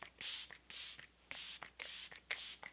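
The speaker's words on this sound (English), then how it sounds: "Let's go ahead and use the Rare Beauty Always an Optimist 4-in-1 spray." Rare Beauty Always an Optimist 4-in-1 setting spray is misted onto a face in several short, soft hissing bursts at a steady rhythm, close and fairly quiet.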